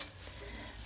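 Liquid at a boil with purslane being added and stirred in a pot, Artsakh-style stewed purslane; a short, steady bubbling and sizzling with stirring scrapes, close and moderately quiet.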